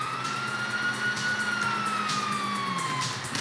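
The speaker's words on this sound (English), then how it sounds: "sirens!" Police sirens wailing in Grand Theft Auto V, a steady loud siren tone sweeping slowly up and down across the whole stretch with traffic rumble beneath, no talk.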